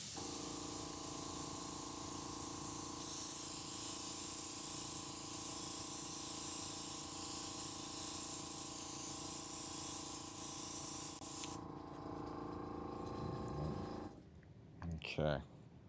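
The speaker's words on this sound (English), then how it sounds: "I'm going to use the acrylic through an airbrush and just lay down a nice light layer" An airbrush lays down a light coat of acrylic paint through a stencil, a steady close hiss with a faint compressor hum that stops abruptly near the end, with some soft talk.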